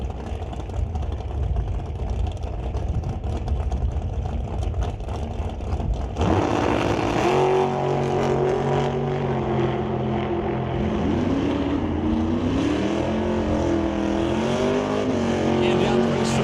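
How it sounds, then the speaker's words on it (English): Rack Torque Systems dragster on a test run down a drag strip: a loud engine drone builds, then erupts into a roaring launch with rising pitch sweeping away down the track, with a public-address voice partly under it. "So Greg Dowdy going to bring up the Rack Torque Systems dragster for another test hit this afternoon"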